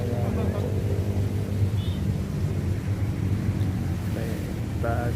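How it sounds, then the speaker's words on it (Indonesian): Strong wind buffets a microphone beside the fishing spot at Kalimalang under overcast skies, a loud steady low rumble with a few faint tonal sounds in the background. "Anginnya kenceng banget."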